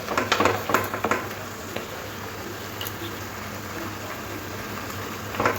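Water splashes into a pan of cooking banana stem shoots with prawns: a few wet clatters and pours at the start, then a steady low simmering bubble, close and with no talking.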